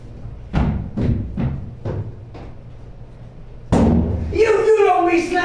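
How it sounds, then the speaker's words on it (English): A door bangs shut repeatedly on stage during a live theatre play, five heavy thumps in a steady rhythm, followed by a raised voice speaking over room ambience. "You don't be slamming doors in this house, boy."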